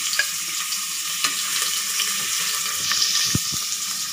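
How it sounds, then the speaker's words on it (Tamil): Paneer fries in refined oil in a pan, a steady hiss of sizzling held throughout, with occasional soft scrapes and knocks as the pieces are stirred, close and fairly loud, with no talking. "இந்த பன்னீரை போட்டு சும்மா ஒரு பெரட்டு பெரட்டு எடுத்துக்கிறேன் நான்."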